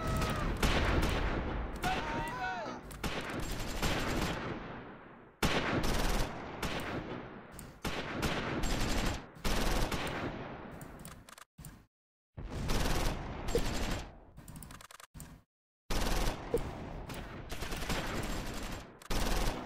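Close Combat 5: Normandy, a beach-landing battle at Quinéville with US troops: dense bursts of rifle and machine-gun fire crackle loudly in clusters, broken by short silent gaps.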